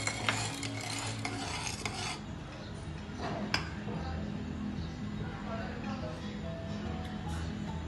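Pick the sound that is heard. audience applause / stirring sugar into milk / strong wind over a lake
stirring sugar into milk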